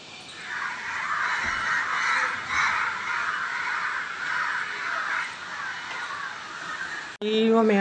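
Crows caw repeatedly in a harsh, fairly steady chorus at moderate distance, and a person speaks briefly at the end.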